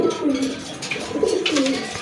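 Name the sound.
pigeons cooing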